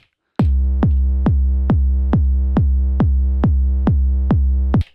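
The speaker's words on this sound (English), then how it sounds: "4x4 kick, and it sounds like this." An Elektron Octatrack sampler plays a 4x4 kick drum pattern: about eleven loud, deep, booming kicks on an even, steady beat, heard alone.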